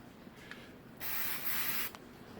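Brake cleaner hisses from an aerosol can in one short, fairly faint burst of about a second. A brief puff comes just before it, and quiet background noise sits around both.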